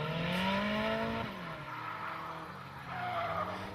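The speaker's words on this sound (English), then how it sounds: "The red car, of course, spins out, which is going to be a pretty big disadvantage." Drift cars at a motorsport event, including a red Nissan 240SX hatch, skid with sustained rising and falling tire squeals and engine noise, one spinning out, loud and continuous with no talk.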